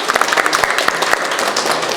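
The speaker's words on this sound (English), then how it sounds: "So just a big round of applause." An audience claps at the opening ceremony of a Hazaragi restaurant in Dandenong, Melbourne, producing dense, continuous applause that stays close and fairly loud throughout.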